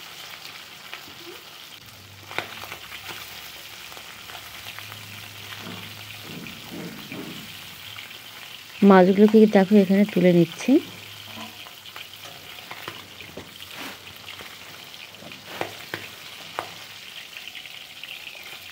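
Singi fish frying in hot oil for a thin fish curry, a steady crackling sizzle throughout, with a brief stretch of someone speaking in the middle and occasional utensil clinks.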